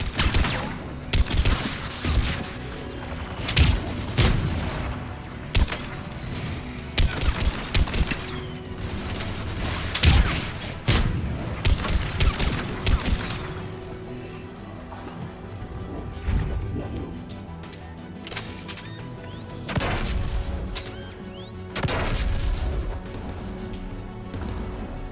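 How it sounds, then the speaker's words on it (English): Anti-aircraft guns fire in Mass Effect 3 with dense bursts of rapid booming shots and crashing impacts, loud and continuous, then easing off toward the end. "There, the anti-aircraft guns."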